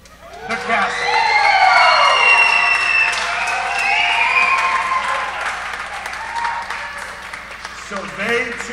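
Warm applause fills an awards banquet hall, a large crowd clapping loudly and continuously, swelling early and then tapering, with a voice speaking over it near the end.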